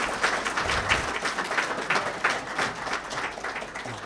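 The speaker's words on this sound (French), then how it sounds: "Je vous demanderai d'applaudir davantage pour monsieur le directeur général qui a accepté." Audience applause at a conference in honor of a director general, a steady, fairly loud wash of many hands clapping indoors for the full length, with a faint voice or two underneath.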